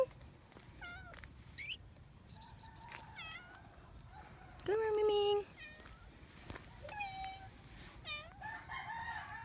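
Cat meowing outdoors: a few short, rising-and-falling meows, fairly faint, amid chirping and crowing from roosters or fowl nearby, over a steady high background hum.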